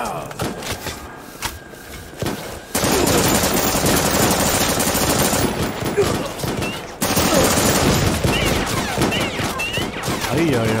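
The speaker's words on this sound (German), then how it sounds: "Alter, schießen die von so weit aus." Heavy bursts of automatic gunfire in the first-person shooter game 41 Hours, loud sustained volleys that break off briefly and resume, with a voice speaking over the shooting.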